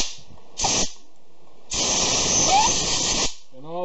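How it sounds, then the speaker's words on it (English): Air compressor nozzle blowing air through the holes and orifices of a 2006 Honda Metropolitan/Ruckus scooter carburetor: short sharp hissing blasts, one brief burst then a longer sustained blast, with a faint squeak at the end. "I'm going to blow them all out. Same thing I did with the carb cleaner, only with air."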